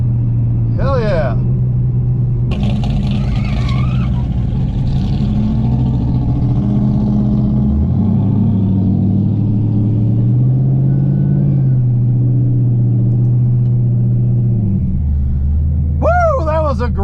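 An LS-swapped E39 BMW wagon on a dragstrip gives a deep, loud V8 rumble that rises and shifts pitch as it pulls away, with brief voices and whoops at the start and end.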